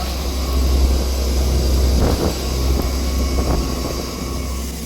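A fishing boat moving at sea by night in strong wind, with a constant low engine drone beneath a heavy rush of wind, and a few faint knocks.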